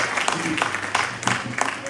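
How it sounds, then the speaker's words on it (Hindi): Audience clapping at a poetry gathering marking a poet's birthday, a few seconds of scattered, moderately loud applause with some mixed crowd noise. "आप भी सुनना चाहते तो एक बार जोरदार तालियां बजा दीजिए"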